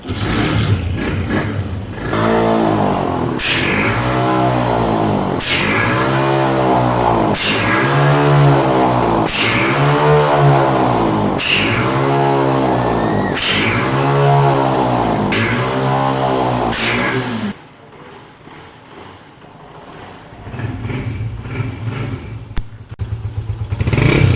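A Honda CG 125 motorcycle engine runs loudly and steadily during a petrol silencer wash, revving in regular surges with sharp thuds between them, then drops to a rougher, quieter idle near the end.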